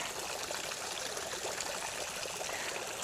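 Water trickles and splashes steadily from a garden water feature, a continuous bright burbling stream with no voices, close to the listener.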